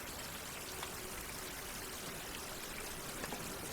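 Water streaming and trickling steadily out of containers in a survival video game, a continuous soft pouring wash with faint drips, no talk.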